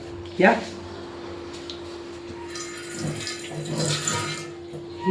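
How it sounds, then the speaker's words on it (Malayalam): A tawa griddle is rinsed under running tap water: a splashing rush of water swells midway and then fades, close by, with a person talking over it. "ഈ തവ നമുക്ക് കഴുകണം."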